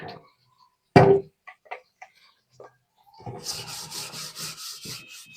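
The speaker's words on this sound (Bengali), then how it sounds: "এই হাঁড়িটা একটু মাজে নিচ্ছি।" A cooking pot being scrubbed clean in a home kitchen, rapid scraping rubs repeating for a couple of seconds after a few isolated knocks and clatters.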